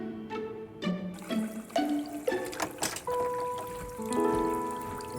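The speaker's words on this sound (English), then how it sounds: "the water's running out of the kitchen faucet" Water runs from a kitchen faucet in a steady trickle and pour, mixed with tonal clanks and ringing pipe-like tones that rise and fall throughout, fairly close and moderately quiet, with no talking.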